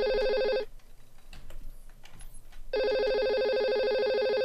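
A telephone rings during a Call of Duty Black Ops 2 gaming session, two loud bursts of steady electronic ringing separated by a two-second pause.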